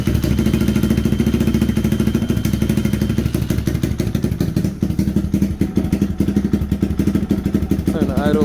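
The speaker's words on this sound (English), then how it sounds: "Turn the idle up some." Lifan KP Mini 300 motorcycle with a custom exhaust idling close by, a loud steady thumping beat with a low rumble and mechanical clatter that sounds a little uneven near the end.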